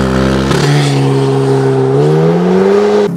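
An Audi TTS Coupe 2.0 TFSI launches hard with launch control, its engine roaring loud and close, a sharp jump in revs then a rising pitch climbing steadily through the gear before a brief drop at the end.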